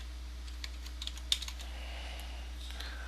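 Faint, scattered taps on a computer keyboard, close but quiet, over a steady low hum.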